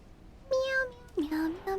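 A cat in a video game gives three short, tonal meows, the first drawn out and the later two rising and falling, clear and close against a quiet background.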